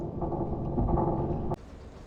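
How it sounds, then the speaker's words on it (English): A thunderstorm rumbles in the Cold Waters submarine game with the Drumbeat mod, a dense continuous roar of thunder and rain that cuts off abruptly near the end, leaving quieter ambience. "a big storm has just came and went"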